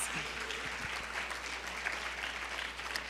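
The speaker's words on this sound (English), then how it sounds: "So give yourselves a round of applause." Steady applause from a crowd fills the clip, dense and continuous with a faint murmur of voices underneath.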